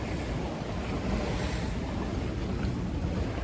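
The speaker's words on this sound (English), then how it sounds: "Waves are getting higher because we lost the protection of the island." A sailing boat sails solo in open water on the way to Norway, and rough sea waves wash and churn steadily around it under roughly 20 knots of wind, with constant wind noise buffeting the microphone.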